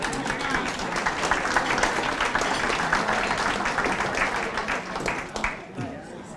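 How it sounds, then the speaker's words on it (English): An audience at a hall of fame induction dinner applauds the kitchen staff, a dense, continuous clapping that fills the room and fades slightly at the end. "I think a round of applause for them."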